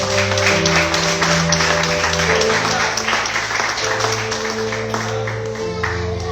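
A church congregation breaks into sustained applause over steady music with held organ or keyboard tones, the clapping dense and continuous throughout.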